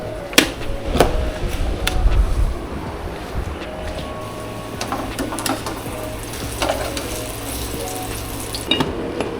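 Water running from a tap into a container for coffee, a steady soft splashing with occasional clicks and knocks, fairly faint and without talk.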